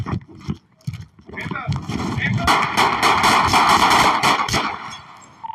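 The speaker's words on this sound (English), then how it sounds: "Control, shots fired." Sharp gunshots ring out during a police encounter, a few quick bangs at first, then a loud, sustained, noisy commotion that carries on for several seconds.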